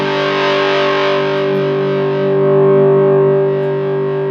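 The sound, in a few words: guitar through a Big Muff distortion pedal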